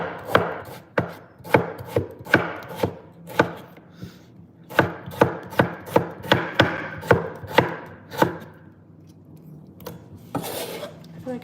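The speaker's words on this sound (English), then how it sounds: "I feel like I need a bigger chopping board." Knife chopping vegetables for a Greek salad on a chopping board, steady rhythmic thuds close by in quick runs with a few brief pauses, alone without talk.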